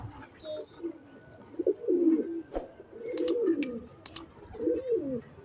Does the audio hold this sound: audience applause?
no